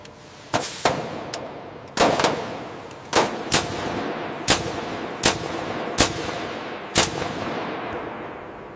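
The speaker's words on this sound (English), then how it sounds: "Firing the first rivet." A rivet gun firing during restoration work on a World War II Schwerer Gustav railway gun: a series of loud, sharp bangs at irregular intervals, each ringing briefly over a steady background hum.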